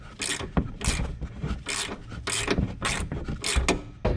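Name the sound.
ratchet installing Jeep inner fender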